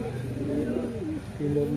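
Racing pigeons cooing close by in a loft, a steady low murmur of soft coos running through the whole moment with some background noise.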